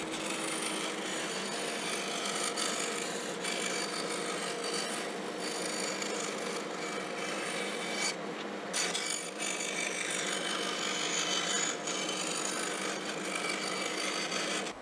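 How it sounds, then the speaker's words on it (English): Four-in-hand rasp filing wood down to a traced line on curved chair templates, a steady, close rhythmic rasping with repeated back-and-forth strokes throughout. "Then I use a 4-in-hand rasp to remove the waste to the line that I traced."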